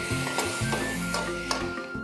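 Water is sprinkled over jackfruit in a hot spice tempering while it is stirred, giving a soft, brief sizzle with scraping stirs, quiet and close, with no talking.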